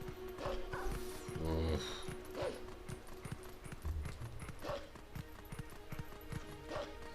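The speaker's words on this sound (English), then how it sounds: "Why don't I call the horse?" Horse hooves clip-clop steadily in Zelda: Twilight Princess HD on Wii U, a rhythmic run of quick game-audio hoofbeats with occasional heavier thuds and a brief vocal grunt.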